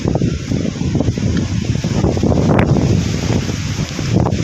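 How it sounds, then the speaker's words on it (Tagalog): Strong gusty wind during a three-day rainstorm on a farm buffets the microphone with a continuous roar and rustling, loud and unbroken throughout. "Talagang mahangin talaga."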